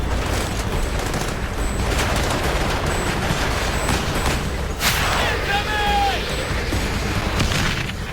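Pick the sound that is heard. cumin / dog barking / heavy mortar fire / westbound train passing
heavy mortar fire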